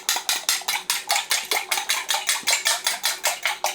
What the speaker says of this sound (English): Grab ourselves a fork. I'm just going to mix them up like so.